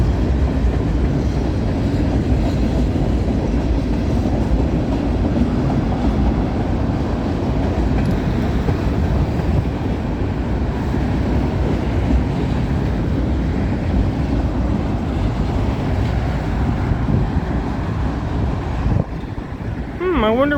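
A CN freight train rolls past on the Dundas Subdivision at Milepost 2, its loud, steady rumble of wagons on rails sustained throughout with wind noise, before easing off near the end.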